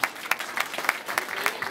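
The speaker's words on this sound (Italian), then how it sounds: "Un applauso per tutte le maschere di tutti i rioni." Crowd applause at a carnival gala evening in Vercelli honoring the carnival masks of all the districts, brisk continuous clapping with rhythmic surges throughout.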